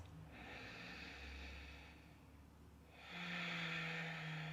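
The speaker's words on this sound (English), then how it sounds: "Breathing in through the nose and out through the nose." Slow, deliberate nasal breathing during a yoga sun salutation warm-up: a soft airy inhale through the nose, a pause, then a louder, fuller exhale, close and alone.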